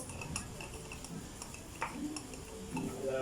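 Baby milk formula being mixed in a bottle: light clinking and stirring taps, close by, repeating irregularly over a few seconds against a soft background hiss.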